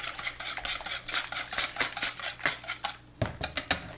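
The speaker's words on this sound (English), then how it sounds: "Whisking the eggs a little bit here." Eggs whisked in a bowl for French toast, a quick rhythmic series of light metallic clicks and taps, close and steady, pausing briefly before a few final strokes.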